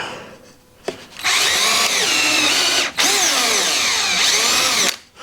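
A power drill drives screws into the raised floor of a Kawasaki Ridge UTV, giving two long, loud, close whines with shifting pitch, split by a brief pause in the middle.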